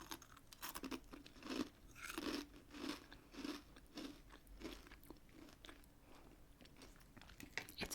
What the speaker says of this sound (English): These biscuits were bigger, they'd be harder to bite through, but the size makes them like a perfect crunch.